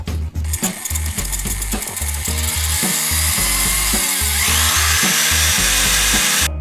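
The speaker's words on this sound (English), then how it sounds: "now I'm going to drill some holes in it so that this can mount to one of our cases" A power drill bores holes through aluminum uprights cut into 28-inch sections for a large MIDI controller, running loud and continuous at close range with a steady grinding whine and no talk.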